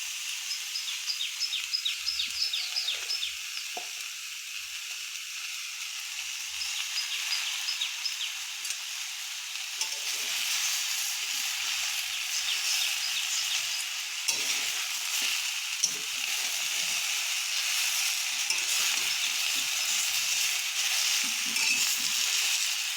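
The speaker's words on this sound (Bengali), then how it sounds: "এবার আমরা এতে দিয়ে দেব কেটে ধুয়ে রাখা পুঁই শাকের পাতা।" Malabar spinach leaves frying in a pan, a loud, steady sizzle up close that grows busier with stirring and scraping as it goes on, with no talk.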